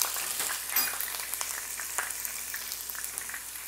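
Onion paste frying in a pan for a Bengali hilsa curry with potato and eggplant, a steady low sizzle with faint scattered crackles throughout, no voices.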